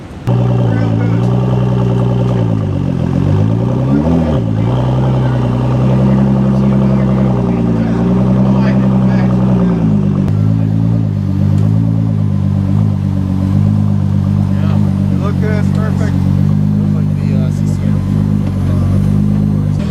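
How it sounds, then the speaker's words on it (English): A new Ford GT runs close by with a loud, steady engine drone that rises and falls slightly in pitch throughout, with someone talking over it. "There it is, ladies and gentlemen, the new Ford GT."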